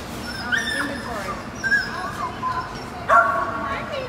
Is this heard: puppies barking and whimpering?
yes